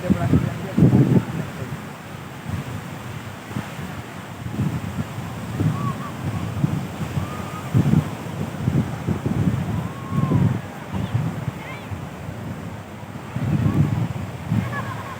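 Sea waves at Gopalpur beach in Odisha, with wind buffeting the microphone and a rolling, surging wash of surf that swells and fades in irregular pulses, fairly close and moderately loud.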